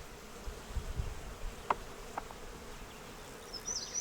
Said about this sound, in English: Oh my, that's a lot of bees.